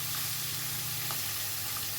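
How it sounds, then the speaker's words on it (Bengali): Four fish pieces fry in a pan over a high flame, making a dense, continuous close-up sizzle with no talk. "4 টুকরো মাছ আমি দিয়ে দিলাম, দিয়ে এটাকে হাই ফ্লেমে এপিট ওপিট ভালো করে একটু ভেজে নিচ্ছি।"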